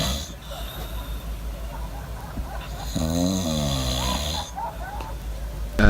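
A person snoring on a sailboat at night, rough raspy breaths rising and falling close by over a low steady rumble, with a sharper burst at the end.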